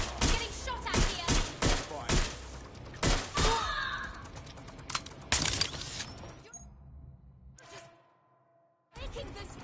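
Gunfire in the Watch Dogs Legion video game, with a run of loud, sharp bursts in quick succession that break off into near silence before one last shot.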